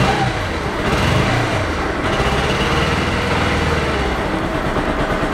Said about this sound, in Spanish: pero la moto tienen que, digamos, prenderla así.